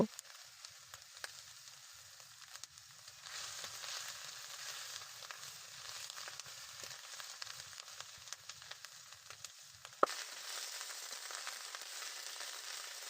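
Green chilies fry in a pan with a continuous close sizzle and steady crackle. About ten seconds in the sound turns brighter and louder, and nobody speaks.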